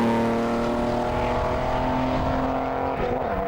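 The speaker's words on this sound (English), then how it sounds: "Now that's a sweet-sounding escort" Ford Escort rally car with a 330 horsepower turbocharged Nissan engine and 5-speed Toyota gearbox, racing on a tarmac rally stage, a loud steady engine drone that shifts pitch near the end as it passes.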